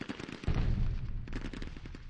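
Rapid machine-gun bursts rattle through a WW2 turn-based tactical video game battle, a dense loud stretch of automatic fire rolling on for a couple of seconds with no talk over it.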